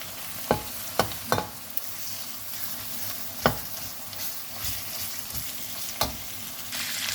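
Minced meat stir-fried with garlic in a pan sizzles continuously, punctuated by several sharp spatula scrapes and knocks against the pan at irregular intervals, close and unaccompanied by speech.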